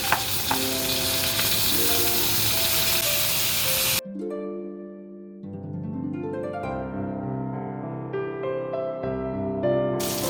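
Teriyaki steak sizzles loudly and steadily in a hot pan for about four seconds, with background music playing over it; the sizzle then cuts off, leaving the music alone.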